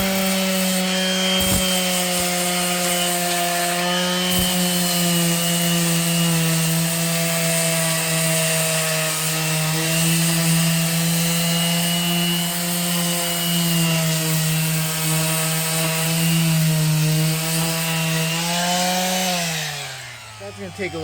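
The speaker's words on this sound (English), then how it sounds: "Time for sanding." Sanding hardened filler on a rotted wood door with 80-grit paper, a loud, steady power-sander whine with a constant hum and abrasive rasp that runs for about twenty seconds before winding down at the end.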